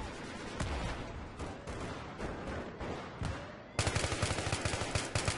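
Bursts of rapid gunfire in the video game Battlefield 3, Rush mode, crackle throughout, growing louder and denser near the end into a sustained automatic volley.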